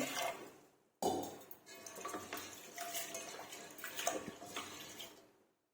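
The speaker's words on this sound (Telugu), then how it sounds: "దీంట్లో కొద్దిగా వాటర్ వేసి శుభ్రంగా కడుగుతున్నాం" Quiet sloshing and swishing of water in a pot as toor dal is rinsed, with small clinks and splashes coming in irregular bursts.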